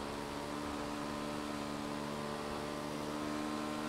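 Yamaha T-Max scooter engine held at top speed, around 160–170 km/h, a steady loud drone with constant tonal hum and broad wind-like roar, unbroken and without any talk.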